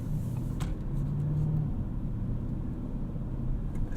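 A 2024 Audi RS7 rolls along at low speed, giving a quiet, steady low rumble of engine and road noise from inside the cabin, with no talking.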